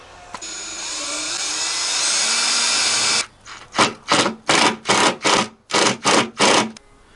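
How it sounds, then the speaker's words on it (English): A power drill whines steadily for a few seconds, then bursts on and off in a run of short, loud pulses as it bores a pilot hole in a VW Crafter van for a diesel heater. "I've just got a little drill bit for that. Just going to pilot hole it"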